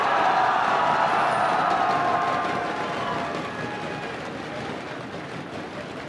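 A large arena crowd at a League of Legends match cheers and roars for TSM, a dense sustained wash of voices that is loudest at first and then gradually fades to a lower steady rumble.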